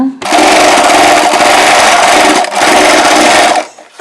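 A sewing machine stitches a frill sleeve on a layered chudidar, a loud continuous motor whir running in two long bursts with a brief pause between them.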